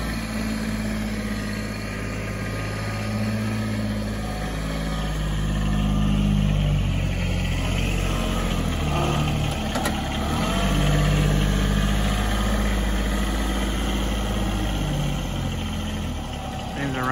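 Kubota RTV 900 diesel 4x4 utility vehicle engine idling steadily nearby with a low, rumbling drone that swells slightly in the middle, alone throughout.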